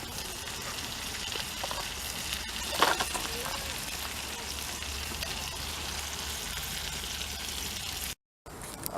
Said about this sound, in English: right now, let's listen to that sizzle